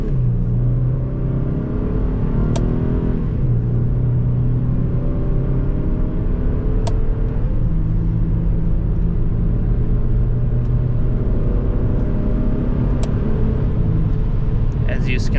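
An Infiniti G37 accelerates with paddle-shifter upshifts: a loud, close engine drone climbs steadily in pitch, broken by several brief drops at each gear change, heard from inside the car.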